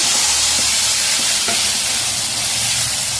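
Water added to a pan of sautéed potatoes sets off a loud, steady hiss and sizzle, a continuous bubbling wash with a few faint clinks underneath.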